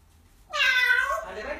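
A single drawn-out meow, bright and close, rising then trailing off, made by a parrot imitating a cat.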